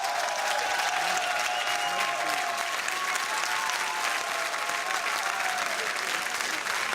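Steady, sustained applause and cheering from a crowd of CDU party members greeting Angela Merkel's election victory speech, dense and continuous throughout with no talk above it.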